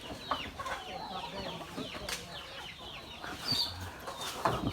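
Several chickens cluck and squawk close by in quick, irregular bursts, with rustling and scuffling movement around them throughout.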